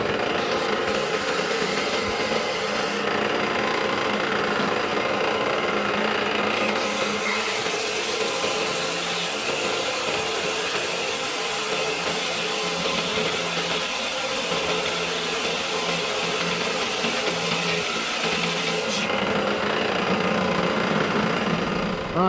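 A power grinder runs continuously, loud and close, for over twenty seconds, grinding down a puck from an old Craftsman 12-inch bandsaw with a steady whining roar.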